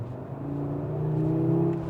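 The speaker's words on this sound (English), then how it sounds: "Listen to that engine note." An Audi RS3 engine hums and rises in pitch as it revs, a smooth growl building briefly before easing off.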